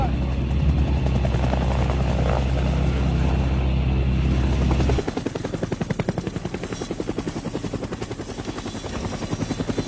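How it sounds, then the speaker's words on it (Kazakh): An aircraft passes overhead, a loud droning roar that shifts at the midpoint into a fast, rhythmic thumping pulse and then holds steady to the end. "Самолет! Бізді өзіңе ала кел!"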